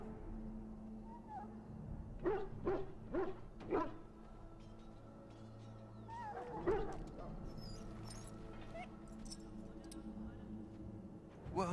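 An injured dog in the video game Dragon Age: Origins gives a quick run of four or five yips and barks, then another short burst and soft whimpers, with voices talking over a steady background.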